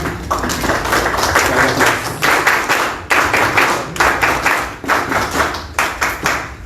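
Applause from a group at a talk on Peruvian infrastructure, with bursts of clapping that swell and fade over several seconds, fairly close and steady.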